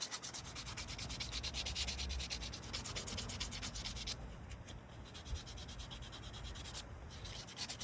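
Steady abrasive scrubbing of sandpaper over a plastic fishing lure, a continuous close rasping rub with a brief change in stroke partway through, no voices.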